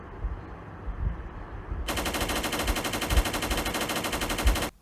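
Machine gun fire in a video game erupts abruptly into a sustained, rapid, evenly spaced burst lasting about three seconds, then cuts off sharply.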